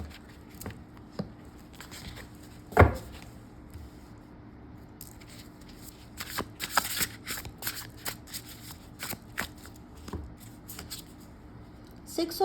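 Tarot cards are shuffled and handled close by. Soft rustles and light flicks are scattered through the clip, with one sharper snap near the start and a busier stretch of card slaps later.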